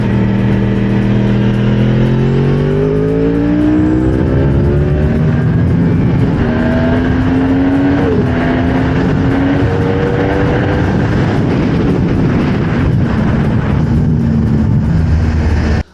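A Yamaha R1 or Ducati Panigale V4 S sportbike revs hard through the gears, its engine note climbing in rising sweeps that drop at each shift, loud and close with steady wind and road roar underneath.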